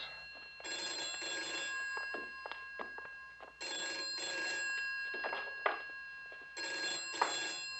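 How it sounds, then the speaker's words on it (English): A telephone rings in three long bursts separated by short pauses, its bright electronic trill steady and fairly close, with no voices over it. "Your phone's ringing."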